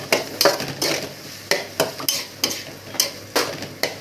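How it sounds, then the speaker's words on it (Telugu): A spoonful of ginger-garlic paste sizzles in a pan while being stirred for a prawn curry, with bursts of frying and the scrape of a spoon recurring roughly twice a second, close and clear with no talking. "ఒక స్పూను అల్లం వెల్లుల్లిపాయల పేస్ట్ అండి. పచ్చివాసన పోయేదాకా వేపుకున్నాం దీన్ని కూడా."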